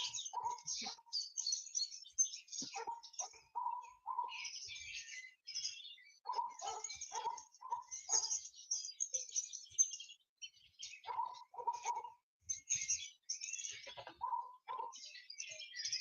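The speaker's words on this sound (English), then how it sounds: "we're actually listening to birds outside. Real birds." Wild birds sing outdoors near dusk, with bright chirps and short tweeting phrases arriving in irregular bursts separated by brief quiet gaps, moderately close and clear against an otherwise silent background.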